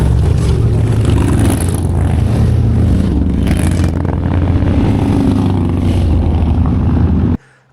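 A Harley Sportster motorcycle with a worn drive belt accelerates hard, its engine a loud, continuous low rumble heard up close that holds for about seven seconds before cutting off abruptly.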